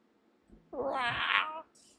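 A person imitates a cat's meow with a single drawn-out, wailing vocal mew of about a second, close and fairly quiet.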